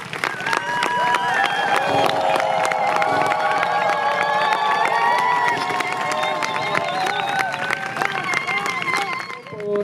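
A large crowd at a feminist 8M rally in Spain cheers and shouts continuously, a loud, sustained roar with clapping mixed in throughout.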